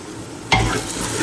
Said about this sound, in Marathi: आमी जिंजर गार्लिक पेस्ट सारकी हे ऑयलान भाजया